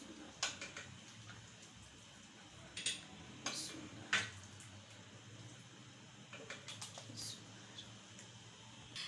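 Beef masala curry being served out, with light clinks and taps of a spoon against a pot and dish scattered over several seconds, fairly faint against a quiet kitchen background.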